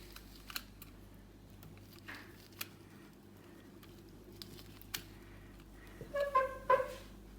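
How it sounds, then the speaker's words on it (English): A screwdriver tightens the terminal screw on a light switch with the blue wire in L1, giving faint scattered clicks and then a brief cluster of small squeaky turning sounds near the end, close up and quiet. "proceed to tighten the screw"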